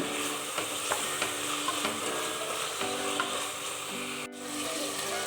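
Tomato stirred into vegetables frying for a vegetable biryani, a steady sizzle in the pan with soft spoon scrapes and taps recurring every second or so, close and continuous, briefly cut near the end.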